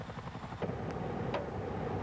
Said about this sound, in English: We filmed one Chinook today throwing out decoy flares, practicing its defence against ground attack.